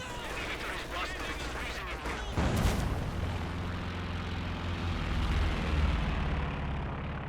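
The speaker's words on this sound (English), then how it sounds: "Good Katyusha barrage there." Katyusha rocket barrage explosions in Company of Heroes 2 during a 4v4 battle on La Gleize: a rumbling bed of battle noise breaks into a loud burst of impacts midway, followed by sustained, booming detonations.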